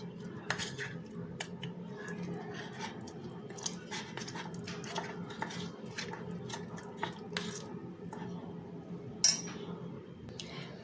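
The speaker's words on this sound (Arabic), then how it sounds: "نحركو حتى تذوب لينا الزبده ديالنا" Butter melting into caramel in a pan while being stirred, with soft scraping and occasional clinks of a utensil against the pan over a low steady background, no talk.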